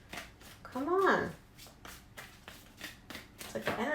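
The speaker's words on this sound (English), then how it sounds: "why can't I shuffle your cards today" Tarot cards being shuffled by hand in a run of quick riffling rustles under a speaking voice that rises and falls throughout.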